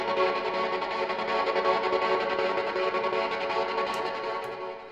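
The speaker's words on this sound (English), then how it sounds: "I put these effects on it, so there's like a trigger gate, a bit of distortion," A violin sample run through a trigger gate and distortion gives a dense, buzzing, steadily sustained tone that stutters rapidly, fairly quiet and alone for about five seconds.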